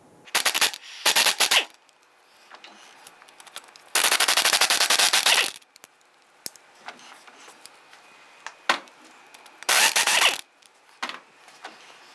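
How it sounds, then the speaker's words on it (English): A 15mm wrench ratchets off the four driveshaft flange bolts on a 2002-2008 Dodge Ram 1500. Several close, loud bursts of rapid clicking are separated by quiet gaps with scattered metallic clinks and taps. "Using a 15mm, remove the 4 bolts."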